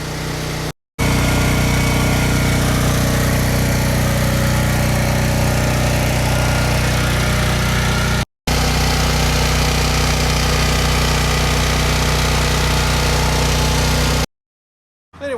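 A tri-fuel portable generator engine runs steadily and loudly close by, a constant droning motor hum with a couple of brief dropouts and a cut near the end.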